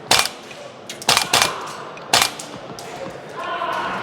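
A replica AK rifle fires a few sharp, loud, close shots in quick bursts with short gaps between them, and faint background noise fills the pauses.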